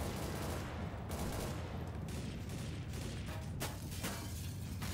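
Rapid automatic rifle fire in Counter-Strike: Global Offensive, a dense, sustained stream of gunshots across the whole stretch with a few sharper bursts standing out, loud and continuous with no talking.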